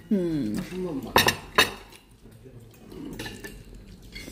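Spoon and cutlery clinking against dishes while food is served at an Afghan kebab restaurant in Dubai, with two sharp close clinks and lighter scraping after, as voices talk at the start.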